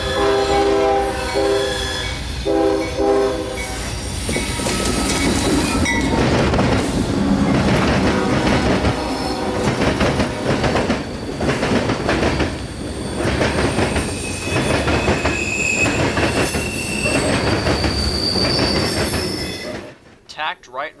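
A CSX nightly mixed freight train from Tampa's Yeoman Yard to Waycross's Rice Yard rolls past close and loud, with a long rumbling roar, blasts of the horn early on and sustained wheel squeal, cutting off abruptly near the end.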